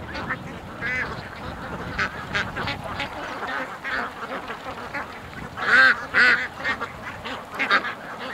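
A large flock of over a thousand ducks rushing out of a pen, quacking in a dense, overlapping chorus with louder bursts of nearby calls rising above the mass, some honking mixed in, no speech.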